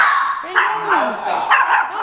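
Small Pomeranian dogs bark and yip in quick high-pitched bursts close by, with a whiny tone between barks.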